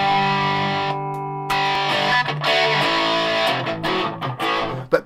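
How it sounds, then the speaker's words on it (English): Distorted electric guitar from a Gibson Les Paul 50s Tribute played through an amp, sustained chords ringing out and then cut into choppy, rhythmic strums. The tone is loud, close and alone. "I really liked the distortion sound that was coming from the amp"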